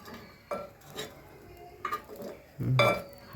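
Utensils clink and scrape against a pan as pitha is lifted off the heat, with a few distinct metallic knocks spaced apart and a louder scrape near the end, fairly close by.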